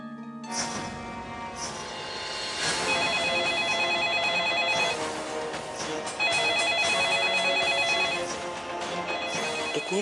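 A telephone rings in repeated electronic bursts, loud and close, sounding alone without speech.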